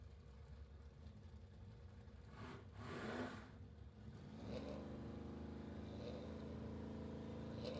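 A 1969 Camaro drag car launches off the line at a drag strip. A faint rumbling idle gives way to a sudden rise into a sustained, loud engine drone heard from a distance, with no talking.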